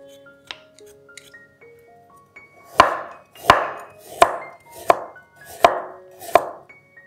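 A kitchen knife slicing peeled ginger on a cutting board for a vegetarian curry, with six crisp, evenly spaced chops close by and a little faint clatter before them.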